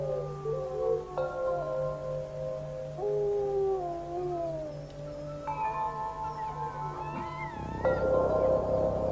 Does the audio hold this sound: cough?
no